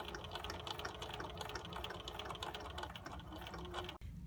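A sewing machine edge stitches around a small fabric mug rug, giving a close, steady rapid chatter of needle and gears that stops abruptly near the end.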